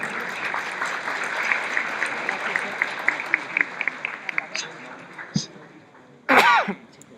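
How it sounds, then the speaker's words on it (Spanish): Farewell applause from a seminar audience honouring a visiting professor after his osteoporosis talk, dense clapping in a room that thins and fades toward the end, followed by a brief loud burst of noise. "Lo despedimos con otro fuerte aplauso"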